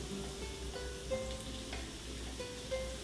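Onion frying in a pan over potatoes for a Spanish tortilla, a soft, steady sizzle with faint crackles, close but quiet, no talk.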